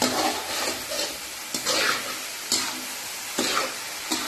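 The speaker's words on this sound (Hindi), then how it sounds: "गाजर केक बनाने के लिए ये अच्छी तरह भून लेनी है गाजर" Grated carrots for carrot cake fry and hiss in a pan under repeated stirring, with sharp scraping strokes about once a second over a steady close sizzle. No one speaks.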